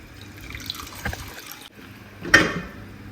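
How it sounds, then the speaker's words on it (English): Hot water pours and splashes briefly as it is drained from cooked soybeans, with a louder gush near the end, like liquid being tipped out into a sink. "I have to go ahead and drain all the water."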